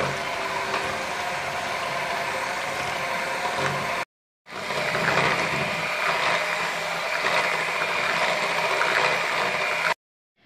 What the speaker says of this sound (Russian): Все это необходимо взбить миксером до однородной массы.